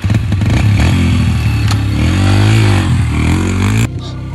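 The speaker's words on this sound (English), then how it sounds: "I bought my 11-year-old son this brand new dirt bike for Christmas, and now it's my turn to take it for a spin." A brand-new kids' dirt bike engine revs loudly and steadily close by for about four seconds while being ridden, then the roar drops off abruptly near the end.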